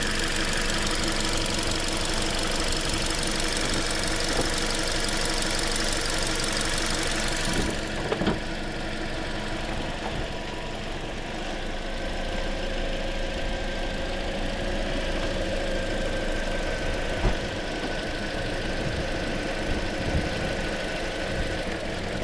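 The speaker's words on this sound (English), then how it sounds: "There we go, it just misfired." An idling 2013 Toyota Corolla engine with a cylinder misfire runs steadily and fairly loud, broken by a few brief stumbles and clicks along the way, with no talking.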